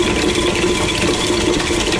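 A KitchenAid stand mixer runs at second speed creaming blueberry muffin batter, giving a steady, close motor hum with a faint rattle throughout.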